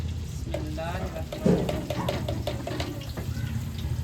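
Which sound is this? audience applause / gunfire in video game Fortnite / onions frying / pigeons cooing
onions frying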